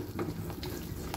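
Three eggs and salt being stirred together in a hot frying pan for egg halwa, with a soft, continuous sizzle and scraping of the stirring spoon, close and fairly quiet.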